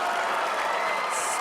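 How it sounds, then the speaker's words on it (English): Crowd noise swells at a high school wrestling match between South Kitsap and Yelm, a dense, loud wash of applause and cheering that carries steadily through the whole moment. "And the crowd goes wild."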